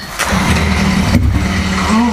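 A motorcycle fitted with a LeoVince exhaust cranks and catches, its engine sputtering into a rough idle up close, with a voice briefly heard over it.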